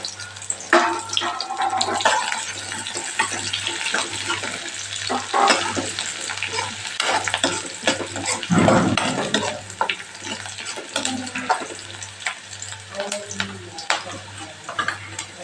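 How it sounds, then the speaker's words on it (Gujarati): Onion sautéing in hot oil for a tempering for lemon dhokla, a steady close sizzle and frying crackle with intermittent stirring scrapes, continuing throughout with no talk. "અહીં આપણી ડુંગળી મસ્ત એવી સતળાઈ ગઈ છે"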